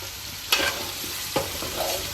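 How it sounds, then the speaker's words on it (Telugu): Chicken sizzles as it fries in a pan and is stirred, with two sharp scraping stirs cutting through a steady close crackle; no voices. "ఫ్రై అవుతుందండి, మంచిగా వస్తుంది"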